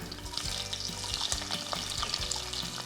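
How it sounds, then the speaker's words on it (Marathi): Sliced onions sizzle steadily in hot oil with bay leaf, cinnamon, cloves and peppercorns, a bright continuous frying crackle broken by regular scraping strokes of a spoon stirring the pan. "हा कांदा आपण एकसारखा परतून घेणार आहे"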